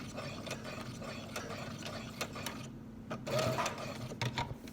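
A sewing machine stitches over fabric with a back stitch, a close, rapid mechanical whirring and ticking that runs in short bursts with brief pauses between them.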